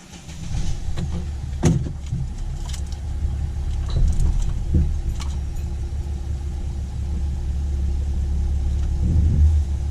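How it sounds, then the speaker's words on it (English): Mercedes ML SUV, an ML350 or ML320 fitted with a new power steering solenoid, rolling along on a road test: a steady low engine and road rumble fills the interior, with a few brief clicks and knocks from inside the cabin. "just taking the ML for a test drive now that we've got that new SPS Solenoid installed"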